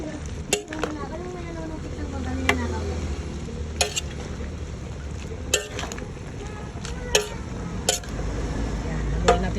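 A utensil stirs okra in a simmering pot, with sharp scraping clicks at irregular intervals over a steady low bubbling rumble.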